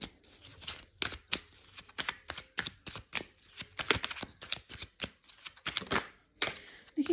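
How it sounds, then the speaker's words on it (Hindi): Tarot cards are shuffled by hand in a quiet room, a close, soft series of irregular riffling and slapping bursts with brief pauses between them, with no voice over it. "शफल कर लेते हैं।"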